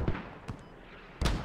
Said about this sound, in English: they're firing off mortars as well